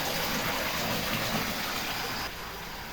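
Spring water at Gaumukh Kund in Chittorgarh flows in a steady, broad rushing wash, close and continuous, easing slightly in level near the end.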